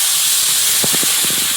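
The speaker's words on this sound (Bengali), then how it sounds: "ভাজা হয়ে গেছে, এবার জল দিয়ে দেবো" Water poured into a hot kadai of freshly fried food erupts into a loud, continuous steam hiss close by, with a few bubbling pops near the end.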